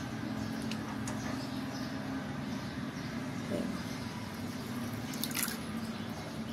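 Washed fenugreek leaves are lifted out of a bowl of water by hand, giving soft continuous dripping and wet squishing close by over a steady background hum, with no talking.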